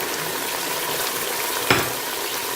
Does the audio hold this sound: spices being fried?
yes